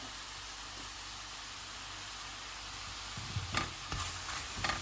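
Mushroom stew with tomato puree and vegetable bouillon being stirred in a pot, a soft steady sizzling hiss with a few louder scraping stirs near the end.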